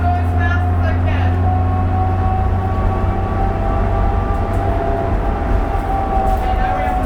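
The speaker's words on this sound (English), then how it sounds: "you can hear the engine real well" Steady low drone of a 2001 New Flyer D40LF city bus engine heard from inside while riding, continuous and fairly loud with a sustained hum, with voices talking over it.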